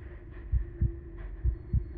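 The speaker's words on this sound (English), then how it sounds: "Hello, heartbeat." Heartbeat sound effect from the pre-alpha demo of the horror video game Captured: two slow, deep double thumps in a steady lub-dub rhythm over a low constant hum, close and fairly quiet.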